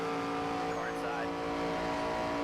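Steady engine drone of several stock cars running close together in a NASCAR 25 race, a continuous even roar with faint tire noise and no breaks across the whole stretch.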